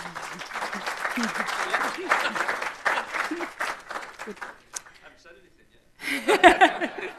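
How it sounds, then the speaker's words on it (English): Audience applause at a fire investigation talk by Derbyshire Fire and Rescue, a steady patter of clapping mixed with chuckles and laughter over several seconds, fading to near silence before a louder burst of laughter and noise at the end. "That's the most applause you're going to give it."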